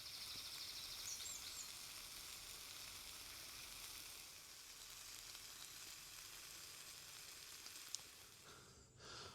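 Bacon frying in a pan for bacon rolls at a campsite, a steady close sizzle and hiss that carries on unbroken, with faint birdsong in the background and no talking.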